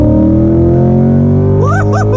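A mid-engine Chevrolet C8 Corvette accelerates hard at night, its engine note droning loud and close before climbing sharply through rising revs, with quick upshifts near the end.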